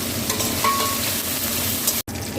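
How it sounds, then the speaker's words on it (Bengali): Whole poppy seeds frying in a little oil in a wok, a dense steady sizzle close by with a short cut near the end, no voices. "প্রথমে আমি এই গোটা পোস্তটা আমি আজকে একটুখানি শুকনো কাঠকলায় ভেজে নেব"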